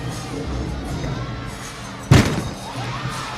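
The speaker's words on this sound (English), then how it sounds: "You can hear the crowd in the background loving Connor McLean's beam routine." A large crowd roars and cheers in a big indoor arena during a college gymnastics beam routine, steady and distant, with a sharp thump cutting through about two seconds in.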